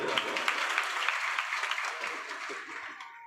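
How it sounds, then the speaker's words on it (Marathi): Audience applause for a group of singers performing Varkari devotional tunes at the Shri Sant Gajanan Maharaj temple in Darwha, steady and dense clapping that continues throughout before tapering slightly near the end. "एकदा या सगळ्यांसाठी जोरदार टाळी वाजवा"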